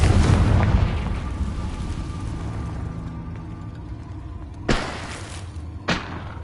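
Confringo fire spell explosions in the Hogwarts Legacy video game: a heavy rumbling boom fading out at the start, then two sharp bursts a second apart near the end, loud and close with no talk.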